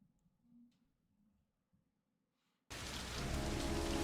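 Heavy rain with thunder in the video game Heavy Rain starts abruptly after near silence, becoming a loud, dense, continuous downpour roar.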